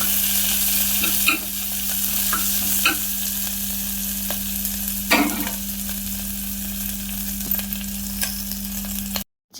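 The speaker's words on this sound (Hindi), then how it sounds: "कैप्सिकम के टिके हल्का फ्राए करमा" Capsicum and onion fry with cumin in a pan, a loud, constant close sizzle broken by several sharp stirring scrapes, under a steady hum and cutting off abruptly at the end.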